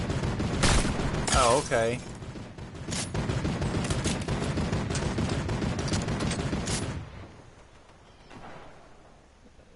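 Rapid bursts of video game gunfire crackle over the first seven seconds, loud and dense, with a voice briefly talking over them before the shooting drops away to quieter background.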